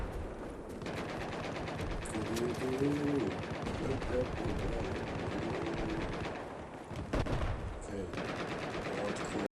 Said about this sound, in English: So I'm going to be using the nail gun